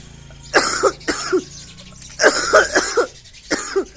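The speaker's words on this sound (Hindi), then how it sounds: "और साथ साथ खांसी भी है" A person who has been receiving injections and an IV drip coughs in several harsh bursts, grouped in twos and threes with short pauses between, close and fairly loud in a quiet room.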